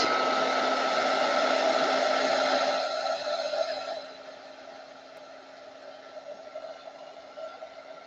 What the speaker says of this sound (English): Put the heat gun on that a little bit.